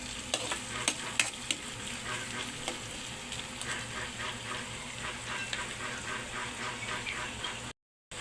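Beef papaitan cooks in a pan, sizzling steadily while a utensil stirs and scrapes in irregular clicks close by, with no talking over it.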